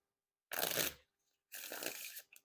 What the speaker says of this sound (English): the Riffle Shuffles and Bridge Shuffles feel fantastic